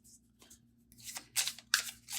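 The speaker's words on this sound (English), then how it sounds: "Keep shuffling this deck." A tarot card deck being shuffled by hand, quiet papery riffles and slides in short uneven bursts, close and soft with brief pauses between.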